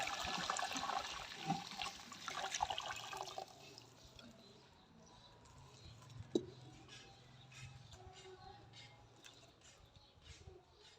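Sugarcane juice is poured into hot ghee in a cooking pot for a rice dish, giving a loud rushing, sizzling splash for about four seconds that then settles into a quieter simmer.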